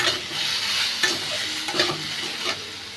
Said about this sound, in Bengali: একটু জাস্ট নুন দিয়ে একটু হালকা করে ভাজা ভাজা করে নিয়ে